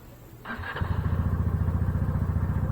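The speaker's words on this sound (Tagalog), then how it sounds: "Bago mo nga pala i-start yung motor" A Motorstar Easyride 150fi motorcycle engine cranks briefly with a clattering whir, then fires up and runs at a loud, steady, throbbing idle nearby.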